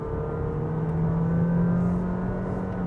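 A Honda City 1.5 V hatchback with a CVT accelerates, giving a steady, droning engine note that stays loud and nearly constant throughout with no speech.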